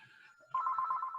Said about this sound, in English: hopefully the wife will catch the phone call